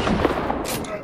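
Shotgun blasts in Fortnite, a few quick loud reports in rapid succession, with a voice talking alongside.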